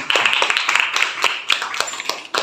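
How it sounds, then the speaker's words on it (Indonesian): A classroom of students claps in an Islamic religious studies lesson, a short burst of uneven, scattered hand claps, close and fairly loud, fading toward the end. "Tepuk tangan."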